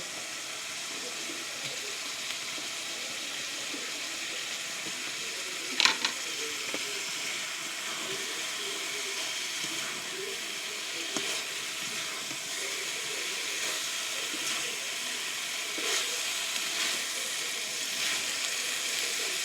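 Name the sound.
pointed gourd added to hot oil and spices, sizzling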